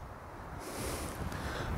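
Wind rushes steadily past the microphone during a skydive, a broad constant roar that swells louder about halfway through and stays strong, with no voices.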